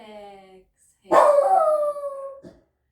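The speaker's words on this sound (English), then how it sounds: "Apologies for my dog who's barking in the background." A dog barks in the background of a home yoga session: one long, drawn-out howling bark that rises after a calm speaking voice fades, then a short yip at the end.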